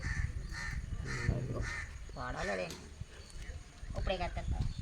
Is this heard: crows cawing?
yes